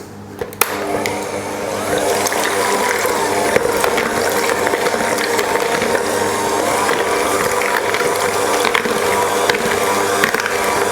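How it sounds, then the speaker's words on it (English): Four eggs are whisked in a jug, giving a fast, steady rattling clatter that runs close and fairly loud for several seconds after a brief knock at the start, with no voices. "So I'm popping in my 4 eggs and give that a whisk."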